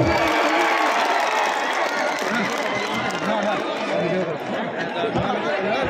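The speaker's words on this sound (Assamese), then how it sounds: "সকলকে এটা জোৰদাৰ হাত চাপৰি বজাবৰ কাৰণে অনুৰোধ জনাইছো" A large crowd at an outdoor felicitation meeting for Assam Chief Minister Himanta Biswa Sarma in Chamguri, Kawaimari, cheers and claps in a dense, continuous roar of applause and chatter that stays loud throughout.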